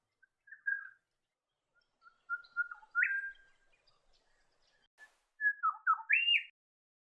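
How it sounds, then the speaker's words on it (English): Grey shrike thrush in New England woodland giving clear, ringing whistled calls, a few short notes and then rising and falling phrases in two bursts separated by a pause, alone in a quiet setting. "Another common bird of the New England woodlands is the grey shrike thrush."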